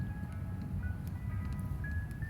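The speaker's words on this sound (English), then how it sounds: "I'm not sure if that's the ice cream truck." An ice cream truck's jingle drifts in from outside, a faint thin melody of sustained tones over a low rumbling background, distant and quiet.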